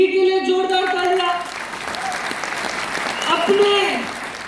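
Loud applause from an audience at a motivational speech event in Bhopal, a dense crackle of clapping that swells again near the end, with a voice speaking over the start.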